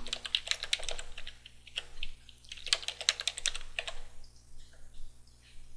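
Fingers type a name and password on a computer keyboard in quick, quiet bursts of clicking keystrokes with short pauses between them, heard close over a low electrical hum.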